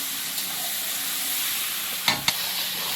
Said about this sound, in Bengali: এইবারে মাংসটাকে ভেজে ভেজে ভালো করে একটু কষিয়ে মাংসটা এই কষিয়ে নিচ্ছি